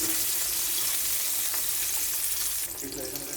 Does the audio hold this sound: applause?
no